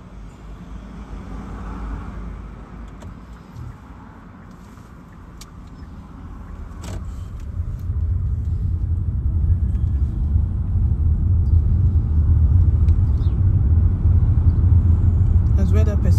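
A car pulls away on a driving lesson in Leeds, its engine rumble swelling from a quiet idle into a louder, steady low drone as it gathers speed, with no talk over it.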